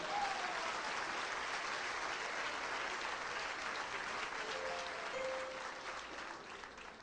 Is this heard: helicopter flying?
no